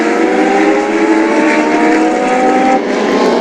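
A US Legend race car drives a lap at New Hampshire Motor Speedway, its engine holding a loud, steady, rising whine with a brief dip near the end, close by and without talk.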